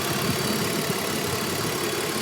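A high-mileage BMW Z4 with about 275,000 miles idles steadily with a faint ticking, heard close up as an even, continuous hum with a broad wash of noise.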